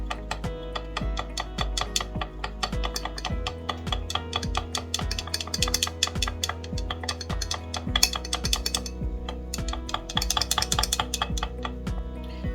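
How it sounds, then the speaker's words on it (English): Chow mein sauce with sesame oil is mixed in a bowl: a fast, steady run of light clinking taps as the utensil strikes the bowl, close and continuous throughout. "I'm going to give it a good mix."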